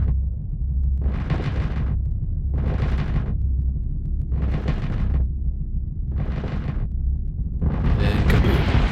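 A spaceship explodes in the space strategy game Starsector with five rumbling, roaring blasts in steady succession, each swelling and fading over a deep continuous drone, with the last one louder and crackling.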